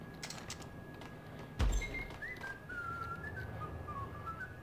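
In the video game Max Payne, a thin, wavering whistle drifts up and down over a steady electronic tone, following a single dull thump, with faint background hum throughout.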